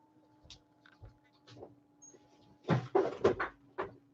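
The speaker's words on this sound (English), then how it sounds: "Give me a second. Close my door." A door pulled shut indoors: a few soft knocks, then a cluster of loud, close clattering thumps near the end, with no talking.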